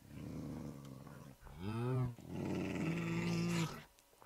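Angry wolves growl in the Minecraft video game, two long low snarling growls close by, separated by a brief pause, with soft background noise.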